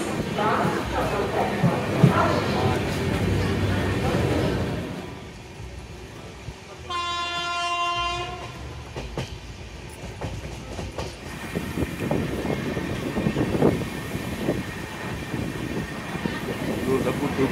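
A train arrives at Bardhaman station on an Indian express journey, with loud rumbling and clickety-clack of wagons, a long tonal horn blast in the middle, then continued rolling noise under a talking voice.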